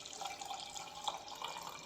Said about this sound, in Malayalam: അടിച്ചെടുത്ത് കഴിഞ്ഞാൽ നമുക്ക് ഒരു കപ്പിലോട്ട് ഇതൊന്ന് അരിച്ചൊഴിക്കാം